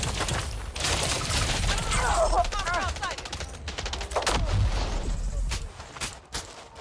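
Rapid bursts of video game gunfire crackle through a busy firefight, dense and continuous, with shouted voices and radio chatter mixed in underneath.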